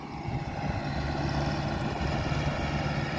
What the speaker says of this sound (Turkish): eski traktörlerden 8073 Şitayir marka bir traktörümüz